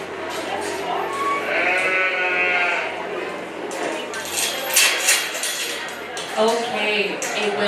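Sheep bleating at a county fair sheep show, several wavering bleats near and loud over a busy barn background, with people talking and faint clinks of metal.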